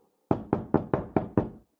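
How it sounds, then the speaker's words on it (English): Six firm knocks on a door, evenly spaced in a quick steady rhythm, loud and close, followed by silence. "There is another knock at the door."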